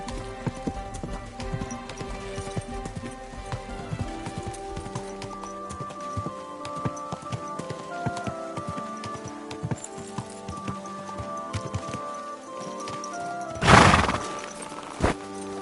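A horse in the medieval game Kingdom Come: Deliverance II clip-clops along in steady, close hoofbeats, then lets out one loud, sharp whinny near the end before the hooves resume.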